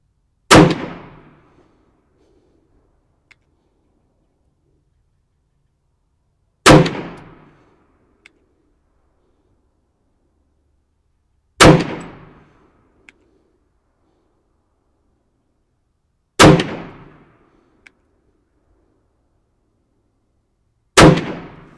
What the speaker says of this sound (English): And then I put a target up at 20 yards and shot a 5-shot group.